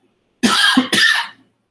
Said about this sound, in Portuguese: A tosse é da garganta.